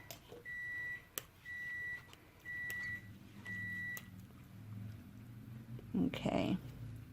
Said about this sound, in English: I don't know if you heard that microwave go off